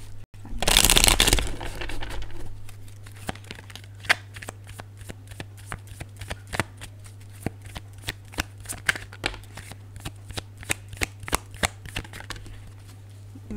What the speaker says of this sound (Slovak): Mám pomiešané karty.